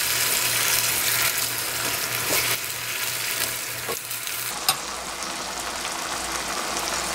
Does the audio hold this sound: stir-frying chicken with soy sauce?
yes